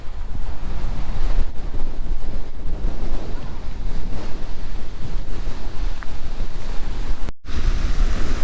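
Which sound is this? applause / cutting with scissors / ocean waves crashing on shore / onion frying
ocean waves crashing on shore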